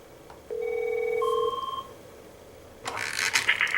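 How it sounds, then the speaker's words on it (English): An Avaya J129 desk phone rings during a sample call, a two-tone electronic ring sounding close and clear, followed by a short clatter of handling noise. "if I make a sample phone call"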